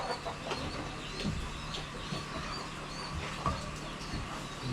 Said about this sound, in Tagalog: Bakit ang ingay na manok?